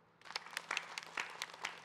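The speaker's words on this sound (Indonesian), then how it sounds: "Tepuk tangan dulu Ibu." Scattered, faint applause from a small studio audience during an Islamic talk show, a handful of distinct claps starting after a short pause and fading in and out.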